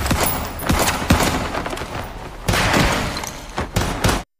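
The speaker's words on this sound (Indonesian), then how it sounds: "Mahiro serta Chisato kemudian lanjut untuk baku tembak dengan Kaede." Bursts of gunfire from an anime shootout between assassins come in loud, rapid volleys with sharp cracks and thuds. Several short clusters break off abruptly at the end.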